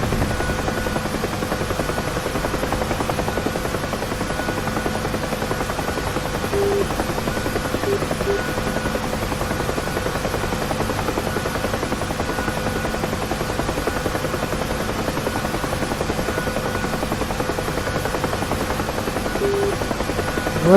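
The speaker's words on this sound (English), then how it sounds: "it is a soothing sound, this soundtrack from this helicopter" A UH-1 helicopter's rotor in the DCS flight simulator drones steadily and loudly throughout, a constant thudding hum with no pauses.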